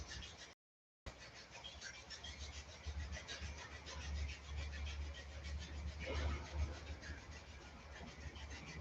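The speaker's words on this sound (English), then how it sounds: "start to rub the palms of the hands together" Palms of the hands rubbing together in a kundalini yoga session, a continuous soft dry rasping friction, steady and close, after a brief silent gap at the start.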